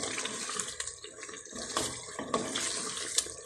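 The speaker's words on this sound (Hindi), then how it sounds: "ये देखिए माशाल्लाह अभी डालती हूँ बस हल्का सा पानी" Water poured in a small amount into chicken frying in a pan for a matar gosht (peas and meat) curry, giving a steady close hiss and splash throughout.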